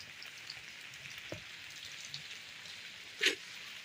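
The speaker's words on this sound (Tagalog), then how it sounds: "So, ayan guys, grabe yung ulan ngayon." Steady patter of heavy rain with scattered drip taps over a soft hiss, fairly quiet and continuous, with one sharper splash near the end.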